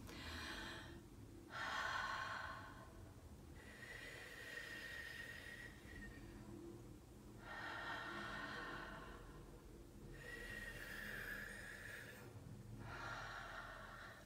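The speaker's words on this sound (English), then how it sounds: "So I'm going to do some breathing because nothing came up that time." A person does slow, deep breathing exercises to expand the lungs, with long audible inhales and exhales repeating in a steady rhythm, close and alone.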